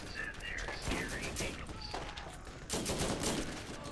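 Sustained volleys of gunfire from the team-based arena shooter Monday Night Combat, with repeated shots and blasts layered in a busy game mix, and people chatting over it.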